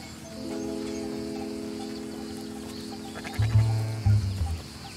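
Goats bleat twice near the end, loud and close, over a steady low drone and background hum.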